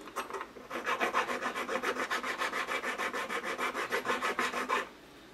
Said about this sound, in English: I start filing from this side as well